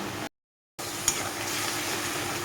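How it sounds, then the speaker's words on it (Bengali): Spice masala paste with turmeric, cumin, coriander and red chilli powder sautéing in oil for a tangra fish curry, a steady close sizzle with a single sharp stir-scrape clink, after a brief silent gap. "তো ভালোভাবে মশলাটাকে আমি কষিয়ে নেবো"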